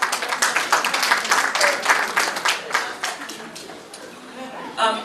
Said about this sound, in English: If we can give them a great round of applause.